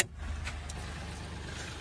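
A second-hand new-model Mahindra Bolero engine idles with a steady, low, throbbing rumble close by, alone and without talk.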